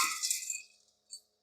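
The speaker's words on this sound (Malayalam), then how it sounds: "കുക്കറിലേക്ക് ഞാൻ പയറിട്ട് കൊടുക്കാൻ" Dried beans are poured into a pressure cooker, making a brief close rattling clatter that fades quickly, followed by one faint clink.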